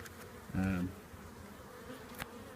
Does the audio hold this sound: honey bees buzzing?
yes